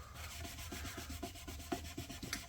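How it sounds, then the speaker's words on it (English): Cleaner is rubbed by hand across the fingerboard of a Harley Benton DC-600 VI guitar, a quiet rhythmic back-and-forth scrubbing of about a dozen short strokes, close and soft, with no talk. "Clean that fingerboard off."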